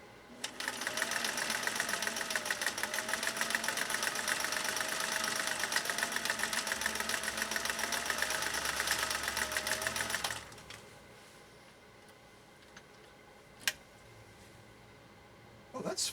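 A Singer 401A sewing machine runs a combination stitch pattern with a steady, fast mechanical whirr and rhythmic needle clatter for about ten seconds, then stops, leaving a quiet room with a couple of small clicks.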